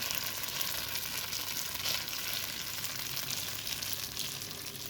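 A bread tuile cooking in a pan just after being flipped like a crepe, giving a steady close sizzle and frying hiss that runs unbroken and even throughout.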